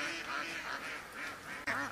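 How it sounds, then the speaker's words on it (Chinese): Ducks quack while swimming toward a person near a farmyard with chickens, a steady chorus of nasal calls filling the clip, close and fairly loud, with a sharper burst near the end. "这些鸭子都朝我这边游过来了。"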